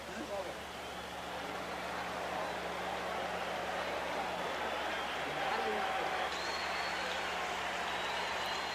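A packed arena crowd at the 1971 Muhammad Ali versus Joe Frazier heavyweight fight roars in a broad, continuous wash of cheering and chatter, with a commentator's voice over the din.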